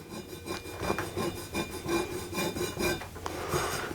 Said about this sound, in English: Now it is taking the rust off,